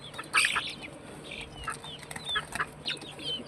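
Desi chickens cluck and chirp in short scattered calls at moderate distance while eating, with light scratching and pecking sounds in between.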